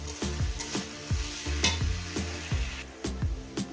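Radish being fried with small pond fish in a pan, a continuous sizzle broken by regular scraping strokes of a spatula, close and steady, with no voices.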